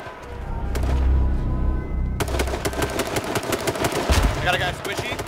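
Bursts of rapid gunfire in a competitive video game scrim, a dense crackling volley that swells and continues across the clip, with a dull low rumble before it and a voice talking over the shots.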